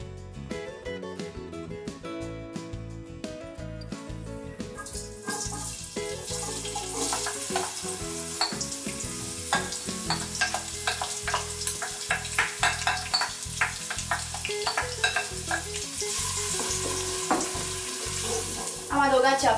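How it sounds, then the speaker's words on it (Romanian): Chopped onion hits hot oil in a large saucepan for a Romanian vegetable stew and sizzles loudly, the frying growing stronger with stirring scrapes, close up and without talk. "Am adăugat ceapa peste uleiul încins și o vom lăsa să se călească"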